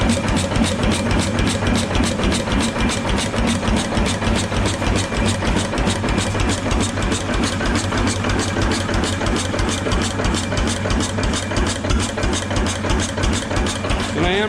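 A Thermoil diesel engine idles on regular diesel fuel with a steady, loud, rapid knocking beat and rattling, running evenly and close up throughout with no pause.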